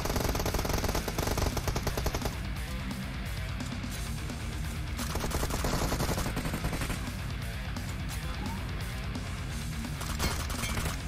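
Gunfire from the PUBG Mobile game rattles in steady rapid bursts of automatic fire, dense and continuous for several seconds at moderate loudness.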